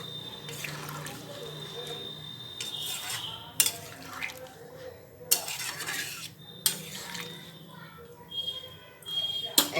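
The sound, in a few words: stirring curry in a pot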